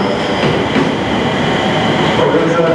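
A JR 701 series train, a mixed set of Akita and Sendai cars, pulls into Yokote Station, a loud continuous rumble of wheels and motors at close range with faint rail squeal.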